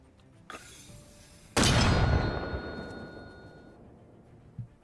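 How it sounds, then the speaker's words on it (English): A mortar round fired in the video game Arma Reforger: a sharp report followed by a loud, deep booming blast that rolls away over a couple of seconds, preceded by a small thump and followed by a faint later knock. "Making its new introduction to the game as well as we do have Mortars."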